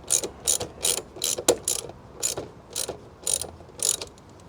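Hand ratchet tightening mud flap screws on a Tesla Model 3, a series of quick, crisp clicking bursts in an uneven rhythm, close and clear with no talking.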